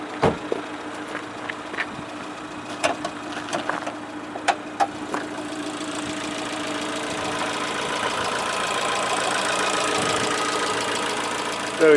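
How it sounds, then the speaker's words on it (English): Car engine idling with its exhausts rumbling, a steady low burble that grows fuller and louder toward the end, punctuated by a few sharp clicks and knocks early on, heard without talk. "You can hear those lovely exhausts as well."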